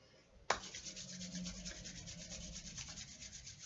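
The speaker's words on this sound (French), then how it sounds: "De nouveau, on frotte les mains." Hands rub together briskly during a self-massage, a close, dry, rhythmic swishing friction that starts abruptly and continues steadily for a few seconds in a quiet room.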